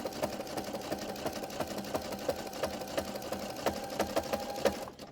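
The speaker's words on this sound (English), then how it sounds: "Then you're just kind of sewing down this side here." A sewing machine stitches down the side of a jelly roll rug in a steady, fast mechanical rhythm, close and continuous, with small regular clicks of the needle, then stops abruptly near the end.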